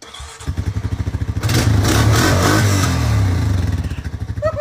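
A motorcycle engine sits nearby idling with a pulsing throb, then revs hard and loud for a couple of seconds before settling back to a chugging idle.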